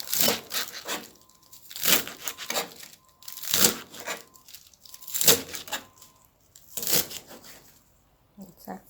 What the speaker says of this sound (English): And then I start to chop them up.